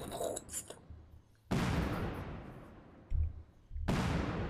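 Fireworks bursting in Monkey Island Special Edition, the point-and-click adventure game: loud, broad booming blasts that crack in suddenly and rumble on for a second or two, one after another, with no talking over them.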